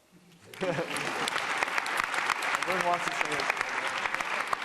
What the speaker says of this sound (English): Let's get another round of applause for our panelists today, and Dean Peck, the stage is yours.